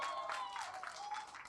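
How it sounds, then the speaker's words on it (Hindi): Fans applaud at a celebration of the film Sooryavanshi's success, a steady wash of clapping with a few whistles, heard at moderate volume from a distance for a second and a half. "शुरुआत जो है इस सेलिब्रेशन की आप लोगों की तालियों की गड़गड़ाहट से होनी चाहिए"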